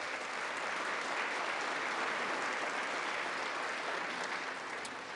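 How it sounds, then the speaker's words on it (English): An audience applauds after a line in a political speech, with steady, sustained clapping from a sizable crowd that holds at an even level for several seconds. "That's an applause line."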